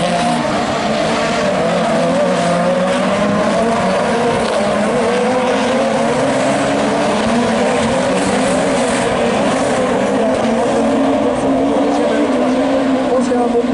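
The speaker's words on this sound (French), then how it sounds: "la Twingo de Nicolas Hudon, et devant eux, la pilote de la magnifique Audi est partie" Rallycross race cars, including an Audi and a Renault Twingo, roar through a French championship Super 16 final at Pont-de-Ruan, engines revving continuously and close by under a commentator's voice.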